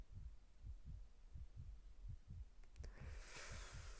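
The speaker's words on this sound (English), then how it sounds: "Is the heart pounding necessary?" A pounding heartbeat effect from a game thumps in a steady rhythm of low beats, loud and alone, with a faint hiss swelling near the end.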